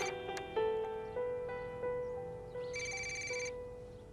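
A telephone rings in an Iranian drama serial, with a steady repeating electronic ring pattern of several bursts, fairly clear and alone without talk.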